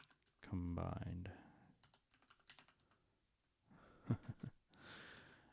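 Clicks of typing on a new computer keyboard, faint and intermittent, with a person talking quietly at first and then a few louder keystroke bursts and breathing later on.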